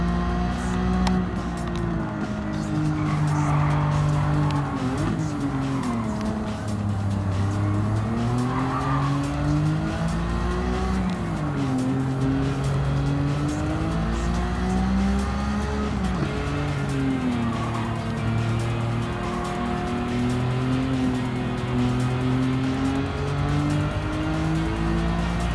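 Nissan R32 GT-R racing in Gran Turismo 7 with traction control on, engine droning loudly and tires squealing and skidding steadily through repeated corners, no talk.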